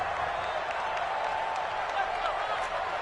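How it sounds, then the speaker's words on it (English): Stadium crowd noise in an American football video game, a steady broad roar of cheering and applause building ahead of a big third down, continuous and fairly loud with no pauses. "the crowd getting into it as we come up on a big 3rd down"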